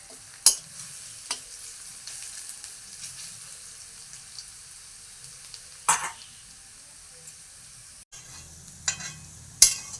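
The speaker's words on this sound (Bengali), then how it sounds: "পেঁয়াজটা ভাজা ভাজা হয়ে গিয়েছে" Onions fry in a pan for chicken chow mein, a faint constant sizzle broken by a few scattered, sharp clacks of a spoon against the pan.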